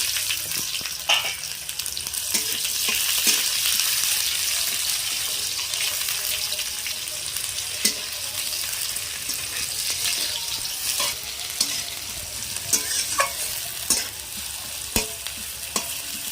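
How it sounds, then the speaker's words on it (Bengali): Chopped onion, added after garlic, frying in a pan with a steady broad sizzle and occasional sharp stirring clicks from a utensil, fairly close and continuous throughout. "আর এবার দেবো পেঁয়াজ কুচি।"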